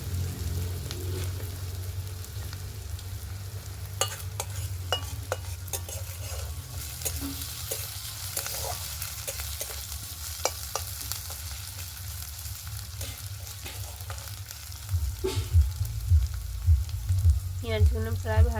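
Sliced onions frying in a pan for a goat fat curry, a continuous close sizzle with frequent spatula scrapes and taps against the pan, growing louder and busier near the end.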